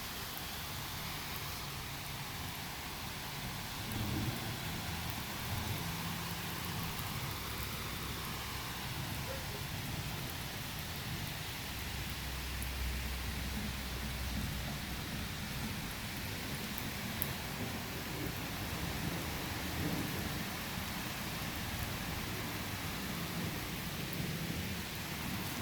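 A thunderstorm with steady rain falling outdoors, a continuous hiss of rain with low rumbles of thunder rolling underneath, fairly distant and even throughout.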